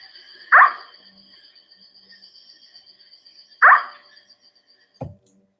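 Two short, separate puppy-like yelping owl calls from a recording, a few seconds apart over a faint steady hiss, followed by a brief low thump.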